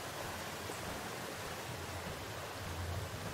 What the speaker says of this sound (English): There's a waterfall in here.